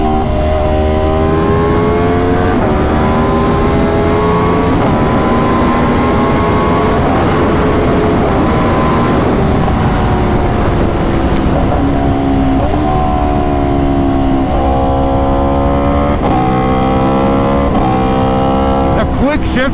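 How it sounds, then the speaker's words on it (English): An Aprilia RSV4 sport motorcycle with a quick-shifter roars loud and close, its engine note climbing repeatedly through the gears with brief breaks and pops at each shift, over steady wind rush. "God, the pop on shift is crazy."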